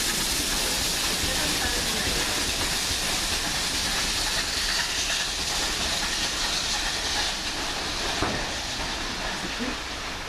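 A Class 172 diesel train, unit 172214, passes at close range with a continuous loud hiss and rumble of wheels and engine.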